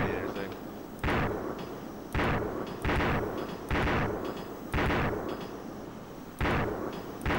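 Repeated heavy gunfire from a tank in a video game, a series of loud booming shots at irregular intervals about a second apart, each with a sharp onset and rumbling decay over continuous background battle noise.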